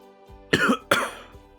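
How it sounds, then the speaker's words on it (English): A person coughs twice in quick succession after swallowing a whiskey and root beer the wrong way, two sharp, close, loud bursts alone with a brief throat sound before them. "That cough was because I swallowed incorrectly"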